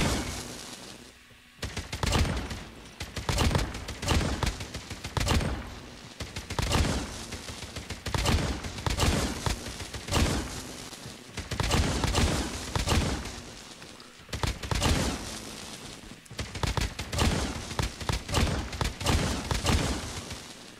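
Oden assault rifle firing in Call of Duty Mobile, sustained bursts of loud, punchy automatic gunfire with a measured fire rate, repeating in steady volleys across the whole stretch with short pauses between.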